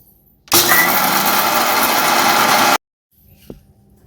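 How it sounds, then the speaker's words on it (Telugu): A kitchen mixer grinder whirs loudly as it grinds roasted peanuts, starting abruptly and running at an even high pitch for about two seconds before cutting off sharply, followed by a faint knock. "మనం మిక్సీ పట్టుకుందాం"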